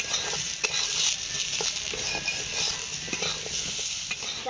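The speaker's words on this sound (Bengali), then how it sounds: "ডাল আর পেঁপে হালকা করে ভেজে নিয়েছি" Lentils and papaya sizzling in a pan while being stirred, with a steady crackle and repeated scraping taps of a utensil.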